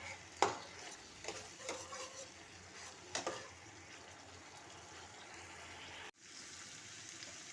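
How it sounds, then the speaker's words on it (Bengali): Spice paste with salt and sugar being stirred and sautéed in a pan, giving a faint, steady sizzle with a few spoon scrapes early on; no voices. "মশলাটি ভালো করে কষিয়ে নিতে হবে।"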